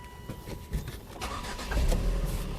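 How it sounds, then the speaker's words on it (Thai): A 2011 Volvo V50 with a 2.0 petrol engine starting up at close range, a short crank followed by the engine catching and settling into a smooth idle. "ดี๋ยวลองสตาร์ทนะครับ"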